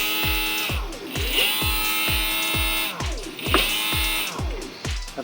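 A small electric motor on an off-road Power Wheels-style crazy cart whirs through its first powered test, pulsing in short rhythmic bursts about every half second with a high mechanical whine, close and steady throughout.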